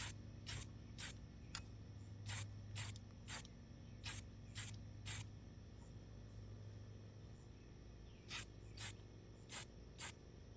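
Spray can priming a miniature dragon model from a few inches away: two clusters of short, sharp hissing bursts, several in quick succession, a pause, then more, over faint room hum.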